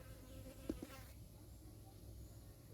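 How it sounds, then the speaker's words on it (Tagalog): Flies drone steadily around a large, foul-smelling flowering cactus, a continuous close buzz with a couple of brief louder passes near the start, with no talking. "May langaw siya kasi mabaho."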